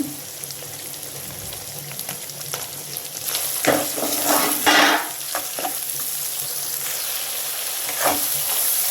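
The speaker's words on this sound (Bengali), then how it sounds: "চিংড়ি মাছগুলো আমি হালকা করে একটু ভেজে নিচ্ছি।" Shrimp lightly frying in a pan with turmeric and salt, a continuous bright sizzle with occasional stirring scrapes and louder bursts midway.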